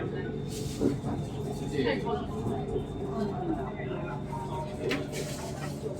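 A Bangkok BTS skytrain rumbles and hums steadily as it runs between Siam and National Stadium stations, with passengers talking quietly and birds cooing faintly nearby.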